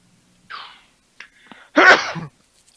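A single sharp sneeze bursts out near the microphone, preceded by a short inhaling gasp and a few small clicks, then quiet.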